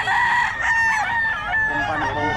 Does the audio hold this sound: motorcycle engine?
no